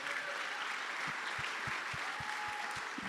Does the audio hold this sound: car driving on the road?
no